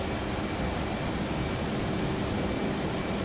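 An F-18 jet engine roars at full power in the DCS combat flight game, a steady dense broadband rumble with a faint high whine, unbroken throughout.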